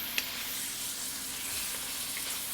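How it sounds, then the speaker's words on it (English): Freshly chopped red and green peppers stir-frying in a pan for chicken and broccoli noodles, a steady, even sizzle with one faint tap near the start, close and unbroken, with no talk. "red and green peppers I have chopped fresh. Add that in there and give it a stir."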